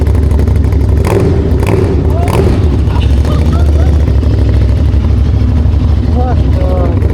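A loud, throaty superbike motorcycle engine with a full exhaust system rumbles continuously with sharp revs punching through, while excited voices talk over it.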